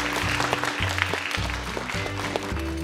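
Applause at a film academy graduation and entrance ceremony, crowd clapping under a sustained low background music tone that steps between notes, moderately loud and continuous.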